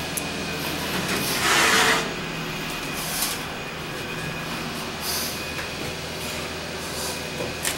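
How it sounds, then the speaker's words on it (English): A Dover elevator motor in the Kleberg Building at Texas A&M in College Station hums steadily as the car rises, with a brief louder swell early on and then an even drone throughout. "Listen to the motor going up when the door shuts."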